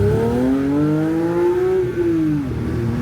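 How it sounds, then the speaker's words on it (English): A car engine revs up loudly, its pitch climbing steadily and then dropping off, a continuous close whine with harmonics and no talk over it. "the sound of this car, when I rev it"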